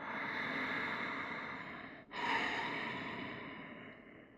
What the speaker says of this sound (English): Full, steady, calming inhales and exhales.